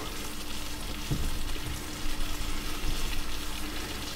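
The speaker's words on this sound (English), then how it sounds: "We're going to put a wee knob of butter" A knob of butter melting into simmering gravy for steak and kidney pie, giving a steady, dense sizzle and bubbling hiss that fills the whole stretch, fairly close and unbroken.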